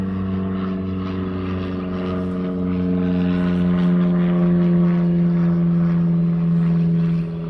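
A propeller airplane passes overhead above a garden, its steady droning engine hum loud and sustained, swelling slightly midway through, with no talking.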